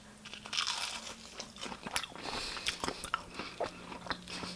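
Close, loud crunching bites into a crisp homemade fried green tomato, followed by repeated crackly chewing.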